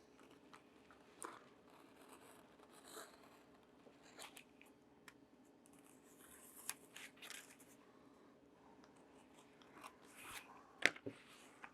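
Trimming leather holster material for a Glock 43: quiet, scattered crisp snips and crunchy cuts at irregular intervals against a near-silent room, with one louder cut near the end.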